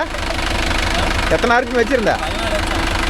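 A Mahindra Yuvo Tech Plus 585 4WD tractor engine runs steadily nearby with a low, even throb, while people talk over it in the middle of the stretch.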